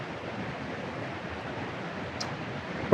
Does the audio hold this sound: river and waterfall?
yes